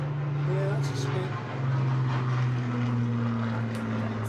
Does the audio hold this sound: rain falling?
no